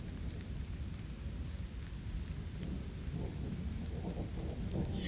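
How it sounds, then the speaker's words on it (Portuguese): Thunder rumbles low and long during a storm over dense brush outdoors at night, with steady rain pattering beneath it and a louder crackling swell toward the end. "tá trovejando, relampeando e nós no meio desse matagal"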